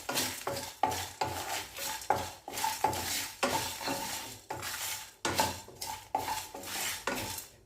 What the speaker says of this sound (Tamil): மிளகா கலர் மாறாமல் வறுத்து கொடுத்துக்கோங்க.